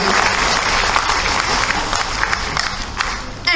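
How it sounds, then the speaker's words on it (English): An audience at a college talk session applauds a visiting IPS officer with dense, sustained clapping that carries on for several seconds. "Please give a huge round of applause."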